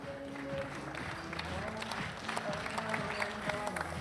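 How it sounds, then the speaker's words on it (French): Audience at an awards ceremony applauding as someone is called to the stage, a quiet, even wash of clapping from a crowd, with an amplified voice speaking through it. "que vous pouvez applaudir également"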